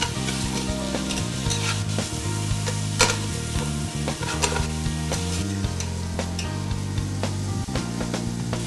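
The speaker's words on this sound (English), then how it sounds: "I'm just going to stir these and saute them for about 4 to 5 minutes until the onions are tender" Onions and carrots sautéing in a pan, a loud continuous close-up sizzle with scattered scraping and tapping of a spoon stirring throughout.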